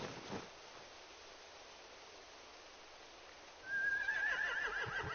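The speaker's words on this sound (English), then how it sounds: "They have horses." Horses whinny loudly and close by, a long rising neigh in the second half after a quieter, near-silent stretch, with a brief snort or stamp at the start.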